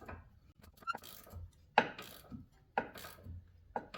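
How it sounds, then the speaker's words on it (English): A 3/8 ratchet clicks as it turns on a Chevy Equinox or Traverse wheel hub. Its sharp ratcheting bursts come up close, spaced about a second apart, against a quiet background. "I found a longer 3/8 ratchet."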